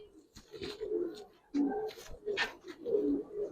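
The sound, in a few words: Giribaz pigeons cooing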